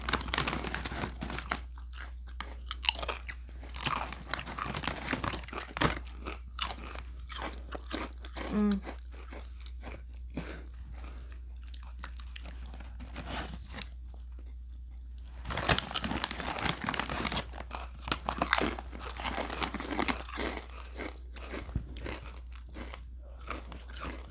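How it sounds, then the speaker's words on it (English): Crinkle cut dill pickle chips crunched and chewed close to the mic, dense bursts of crisp bites and mastication with a quieter stretch midway, over a steady low hum and no talking. "Crinkle cut dill pickle, bolder and crunchier."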